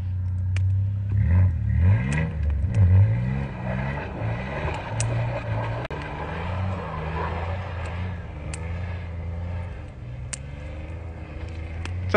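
Toyota truck engine with no exhaust fitted, revving hard and loud with a rough, rising and falling drone across the whole stretch, close by, no talk over it.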